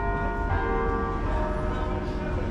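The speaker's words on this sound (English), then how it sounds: "Now church bells are ringing." Church bells ring at night in Nottingham, a steady sustained metallic chiming with overlapping tones heard continuously over city background noise.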